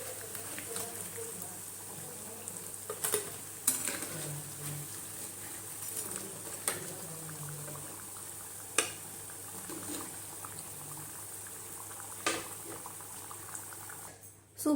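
Urad dal vadai fry in hot oil, a soft, steady bubbling sizzle close by, broken by occasional sharp pops and clicks, with brief faint voice near the end.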